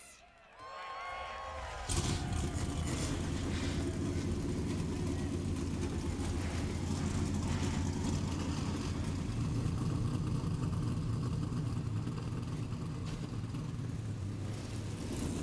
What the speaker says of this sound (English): Let's go trackside now to fire those engines